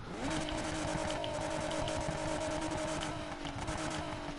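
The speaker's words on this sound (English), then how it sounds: "It sounds like a V6, but it sounds like a good V6," A V6 car engine in the racing game Need for Speed Heat hums steadily and loudly at a held pitch, with a slight rise near the start and no speech over it.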